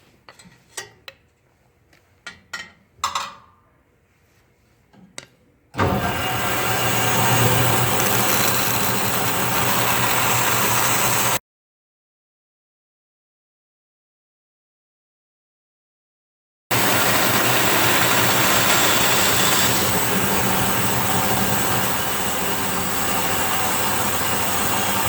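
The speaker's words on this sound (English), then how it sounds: "I'm going to cut this out on the bandsaw." A bandsaw cuts an arc into the wooden piece holding a guitar's truss rod, giving a loud, steady roar in two long stretches separated by a break, after a few quiet knocks and handling sounds.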